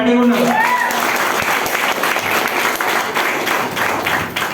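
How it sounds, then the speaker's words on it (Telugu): Audience applause fills a hall during a Telugu business-plan seminar in Hyderabad, dense steady clapping from a large crowd that opens with a brief voice and carries on loud and unbroken. "ఎంతమంది చప్పట్లు కొట్టడానికి రెడీగా ఉన్నారు?"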